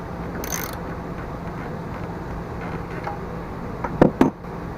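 A part is tightened down by hand on a Murray Sprint 3.75 small engine. A low mechanical background holds throughout, and a couple of brief metallic ratchet clicks come close together near the end, with no speech.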